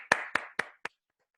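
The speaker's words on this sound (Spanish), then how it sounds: "Me veo algunas palmitas." Four separate claps ring out close to the microphone during an online academic workshop, honoring a professor. Each hit is crisp and a little quieter than the one before, spaced evenly, and silence follows.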